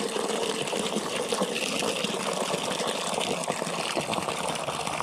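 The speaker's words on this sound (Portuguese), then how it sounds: "tem essa vertentezinha que é água natural" A small natural spring beside a river runs with a continuous gentle rushing and trickling of water, steady and fairly quiet with no voices.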